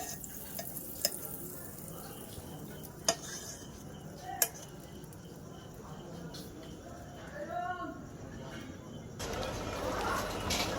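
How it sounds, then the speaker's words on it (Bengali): Butter and mutton stirred with a metal spatula in a hot pan, heard as light scraping and a few sharp metallic taps over a soft sizzle, with a voice speaking at times. "এবার মাংসটা একটু খুন্তি দিয়ে নাড়িয়ে নিলাম"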